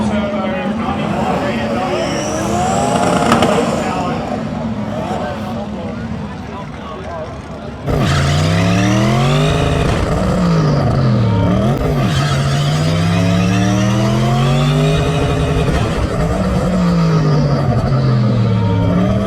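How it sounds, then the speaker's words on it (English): Carl's car doing a burnout at an event with Cleetus: engine noise rises and holds loud for several seconds with a rough, wavering roar, preceded by a busier mix of engines and crowd. "we should have a burnout here shortly"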